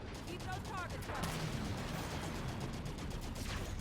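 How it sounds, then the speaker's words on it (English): Plasma mortar fire in the Halo 5: Guardians video game, a dense, continuous barrage of booming weapon blasts and explosions filling the whole clip with no pauses. "shoot down everything with the plasma mortar"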